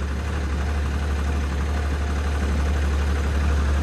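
A steady engine idles with a deep, constant rumble and vibration, unbroken throughout and fairly loud.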